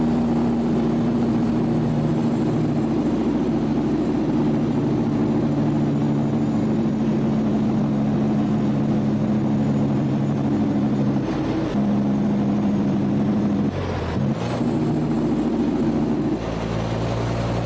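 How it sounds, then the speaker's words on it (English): Simulated Peterbilt 386 truck with a CAT 3406E engine in a truck game sound mod, engine braking as a sustained, loud, buzzy drone that holds steady with brief dips near the end. "That's just genuine jake break there."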